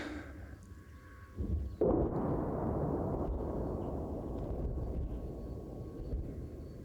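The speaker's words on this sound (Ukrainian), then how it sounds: "постійна канонада, постійні дзищення дронів і, і ці вибухи війни і звуки війни тут просто не змовкають." Forest battlefield where a heavy explosion or artillery boom bursts out after a quieter stretch, followed by a sustained rumbling roar that slowly fades, with faint drone-like whine in the background.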